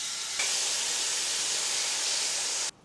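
A steak hits a hot cast iron pan greased with a little coconut oil, and a loud, even sizzle starts at once and holds steady before stopping abruptly near the end.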